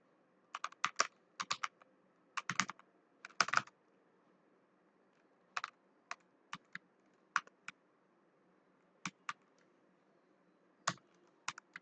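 Code is typed on a computer keyboard in a quiet room, heard as scattered clusters of crisp, close key clicks with gaps between bursts.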